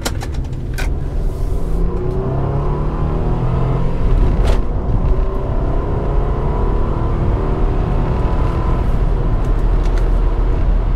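A 2001 Honda Accord EX V6 with a misfire, accelerating on the highway, its engine and road rumble loud and steady throughout from inside the car, with no talking.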